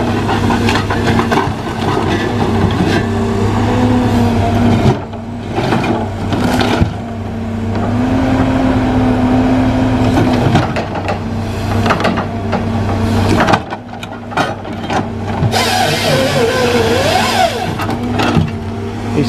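Tigercat 635D skidder working in hardwood logging, its heavy diesel engine droning steadily and loudly throughout with shifting load and revs, mechanical clanks and creaks mixed in, no talk.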